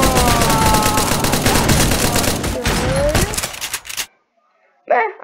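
Gunfire in the Build Royale.io video game: rapid, dense bursts of shots fired loud and continuous for about four seconds, then cutting to near silence with a brief faint sound at the end.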